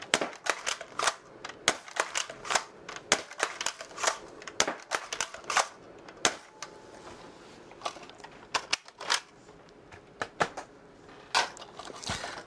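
Dart Zone toy blaster shooting long foam darts, a long run of sharp snapping pops and clacks at an uneven, fairly rapid pace, close and distinct, with mechanical rattles between shots and no talk.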